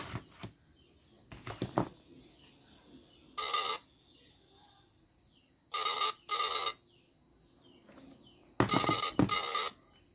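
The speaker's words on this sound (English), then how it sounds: "I am receiving, or there's a call notification on this number" A phone rings with an incoming call placed over Bluetooth from an S8 Ultra smartwatch. Several short, bright ringtone bursts are separated by quiet pauses, heard close and clear.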